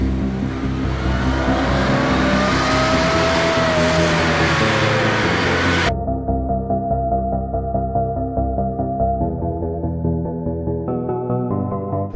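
A mid-1960s Mini Cooper S with a 1275 engine drives and accelerates, its engine note loud and sustained, rising in pitch through the first half and steady afterward.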